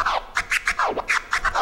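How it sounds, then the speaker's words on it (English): Turntable scratching on a DJ setup: a quick twiddle flare running into a chirp flare, a rapid run of sharp rhythmic scratch strokes with sweeping pitch, close and alone. "we're going to do the twiddle flare into the chirp flare"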